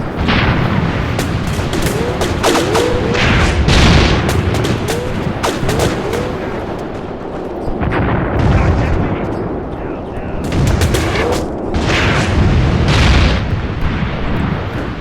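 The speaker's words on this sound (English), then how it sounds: "Oh, that's a BAR. Fire away, boy." Sustained gunfire from a WW2 battle game set in Tunisia, 1943, including a Browning Automatic Rifle, with dense overlapping shots and booms across the whole stretch and a voice talking over the fighting.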